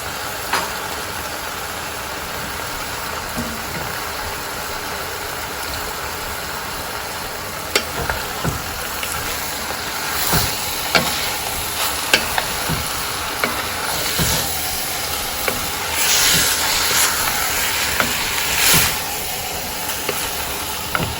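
Cilantro is stirred into chicken biryani frying in a pan, with repeated scraping strokes of the spoon sounding over a continuous close sizzle.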